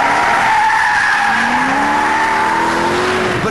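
A supercharged 2007 Ford Shelby Cobra GT500 pulls hard through the gears, its engine a loud, continuous note climbing steadily in pitch, with a whining harmonic rising underneath and no voices.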